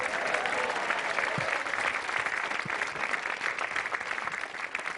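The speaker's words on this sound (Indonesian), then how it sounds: "terima kasih sekali lagi tepuk tangan untuk yang jelek" Stand-up comedy audience applause, a dense, steady wash of clapping from a crowd that holds evenly for several seconds without voices over it.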